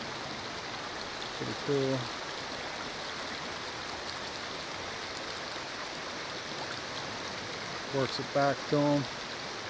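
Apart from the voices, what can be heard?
flowing creek water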